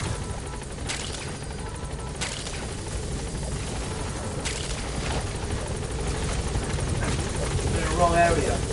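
A helicopter hovers and attempts to land in a PS4 game, its steady rotor thrum and whine loud and continuous, growing slightly stronger toward the end, with voices talking over it.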